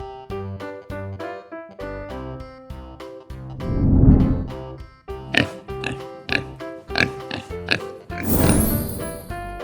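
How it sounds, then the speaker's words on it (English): Pig oinks and grunts come in short, repeated bursts over steady, rhythmic musical accompaniment, fairly loud and close. "Pig."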